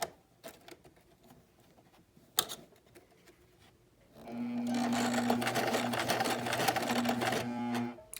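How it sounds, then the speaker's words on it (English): A sewing machine stitches duck cloth for a face mask, starting after a few quiet handling clicks and then running in one loud, continuous whirring burst for about four seconds before stopping. "so my hands aren't completely in the way, so you can see what I'm sewing"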